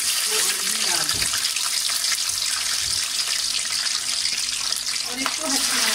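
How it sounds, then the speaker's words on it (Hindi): Chicken drumsticks fry in hot oil with a steady, dense sizzle that fills the whole stretch. The sound is close and even, with a few faint bumps and no clear speech. "वो जो हमने ड्रम स्टिक बनाई थी वो ऑयल में डाल दें"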